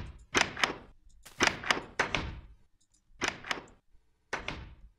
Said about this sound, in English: So that's what the doors, trapdoors, and chests sound like.